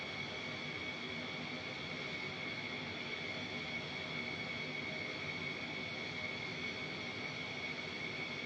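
DC Designs F-15 jet engines in the Flight Simulator 2020 video game, near idle at Mach 1 and high altitude, give a steady, loud, unbroken roar with a sustained high whine running through it and no talking.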